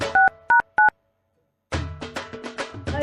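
Three short telephone keypad tones beep in quick succession, followed by a pause and then a burst of other telephone sounds.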